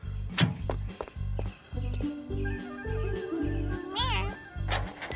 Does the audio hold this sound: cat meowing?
yes